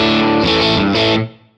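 A distorted electric guitar rings out dry with the reverb switched off, two loud sustained chords struck in quick succession that cut off abruptly with almost no tail.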